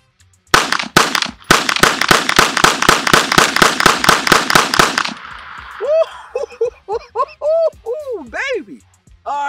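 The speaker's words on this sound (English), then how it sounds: "I just hope it doesn't surprise me again with that loud bang" A Kel-Tec PMR30 pistol fires a rapid string of about fifteen loud, sharp gunshots at close range. Excited voices and shouting follow once the firing stops.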